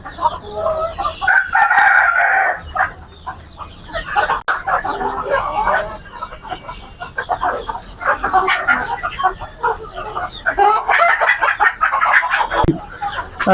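Desi chickens and roosters on a farm holding parent birds, repeated loud crowing and clucking close by across the whole stretch, with only a little talk.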